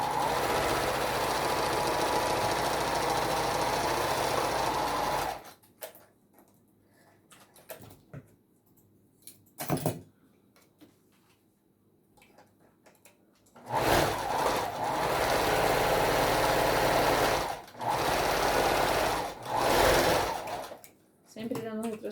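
A sewing machine stitches fabric for a Santa doll body in two long, fast bursts of rapid mechanical whirring, separated by quiet pauses with short clicks, while someone talks nearby.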